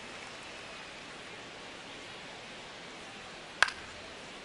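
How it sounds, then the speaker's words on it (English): Steady, soft rain hiss falls over a baseball video game between the Syracuse Lions and the New York Mets, even and unbroken, with one sharp click near the end. "This rain is not letting up."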